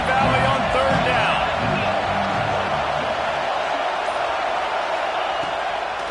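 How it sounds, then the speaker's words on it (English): A big college football crowd in Happy Valley roars on third down. The noise is a dense, sustained swell, with a commentator's voice under it at the start before it fades. "Here comes the noise from this big crowd in Happy Valley on third down"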